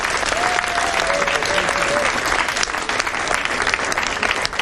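An audience at an official gathering applauds loudly and steadily, a dense wash of clapping that fills the whole stretch, with a faint voice briefly audible beneath it.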